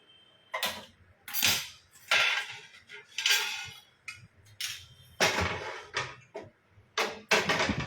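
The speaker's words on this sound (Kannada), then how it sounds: "ಈಗ ದೋಸೆ ಪ್ಯಾನ್ ಇಡೋಣ ಬಿಸಿ ಆಗೋದಕ್ಕೆ." A metal dosa pan being set down on a kitchen stove, giving a run of loud, close metallic clanks and knocks at irregular intervals, with no speech.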